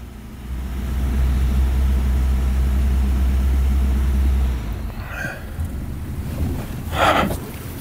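An old 1980s hot hatch found in a barn, fitted with a Porsche system, idles with a low, steady engine drone for several seconds, uneven and juddery from a misfire, before cutting out to quieter background noise.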